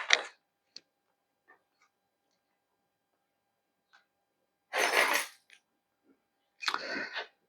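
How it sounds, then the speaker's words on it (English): A bunch of metal keys jingles in three short, bright bursts: one at the start, one in the middle and one near the end, with faint clicks in near silence between. "this time, I'm going to use my bunch of keys"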